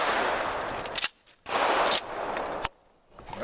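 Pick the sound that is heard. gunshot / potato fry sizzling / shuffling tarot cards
gunshot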